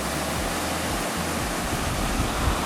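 Waterfall in flood after heavy rain, a dense, steady roar of falling water that fills the whole clip, loud and close with no break or voices.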